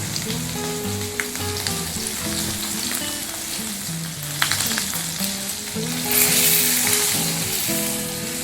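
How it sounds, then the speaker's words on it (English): Beef roast from a cheap cut searing in a hot pan, a continuous sizzling hiss that swells louder near the end, heard beneath background music. "give it that caramelized brown crust around the roast"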